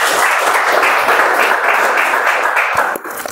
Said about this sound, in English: Can we have a round of applause for all the evaluators and evaluators?